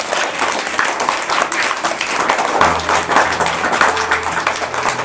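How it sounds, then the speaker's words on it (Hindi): Group of people clapping for monthly maths quiz winners: loud, sustained applause of many hands with a steady crackling rhythm, and a low hum entering midway under the clapping. "तालियां बजाए सबके लिए भाई"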